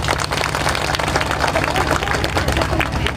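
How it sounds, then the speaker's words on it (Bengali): A crowd at a deputation gathering outside a government office breaks into loud, continuous applause, with mixed claps and some background chatter throughout. "আপনাদের জন্য একটা জোরে হাততালি।"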